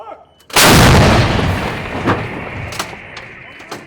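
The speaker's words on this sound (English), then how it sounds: "soldiers fire several rounds of the M777 howitzer daily in support of coalition forces" A single thunderous blast from an M777 howitzer firing at a base in Afghanistan, near and very loud, followed by a long rumbling decay with faint scattered sounds in the background.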